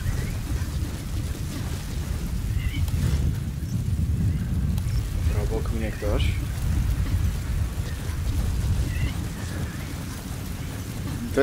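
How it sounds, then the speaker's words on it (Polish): Steady heavy rain with low rumbling thunder throughout from a scripted storm in the video game Metal Gear Solid V: The Phantom Pain, a constant wash of storm noise with no talking. "To jest pewnie burza skryptowana, w sensie taka, która nie przeminie"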